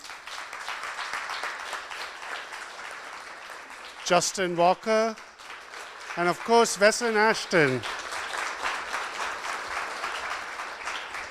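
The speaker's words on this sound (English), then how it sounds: "Can we have a round of applause for Erika Allen," Audience applause for the speakers at a sustainability lecture, steady clapping from the crowd throughout, with someone speaking over it partway through.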